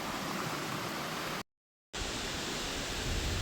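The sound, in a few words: waterfall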